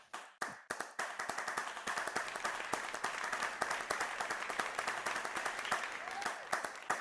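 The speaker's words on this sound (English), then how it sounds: "Let's give him a round of applause" Sustained audience applause at an online NFT art showcase, dense steady clapping from many hands lasting several seconds after an opening few separate claps, fairly faint overall with no talking.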